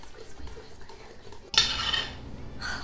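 Crepe batter is whisked in a bowl, with soft stirring at first, then a sudden louder scraping and clinking of a utensil against the bowl partway through.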